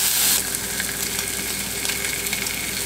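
Thick-cut applewood smoked bacon sizzles in a hot pan, a steady bright frying hiss close up with a slightly louder burst at the start, no talking.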